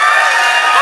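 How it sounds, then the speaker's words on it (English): A live podcast audience cheers and applauds in a brief, loud burst, with a dense wash of crowd noise and whoops filling the short moment. "Round of applause if you are from overseas"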